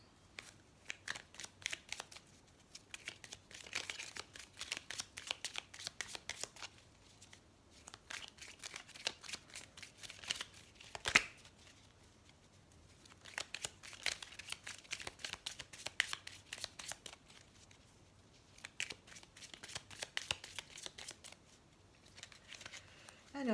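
Tarot cards are shuffled for a reading in quick papery riffles and flutters, coming in bursts with short pauses and heard up close at a soft level.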